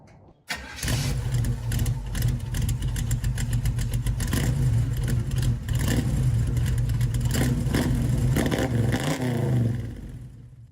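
A show car engine at a car show starts with a sharp catch, then runs loud and close with a rough, throbbing idle and repeated revs for about ten seconds before cutting off abruptly.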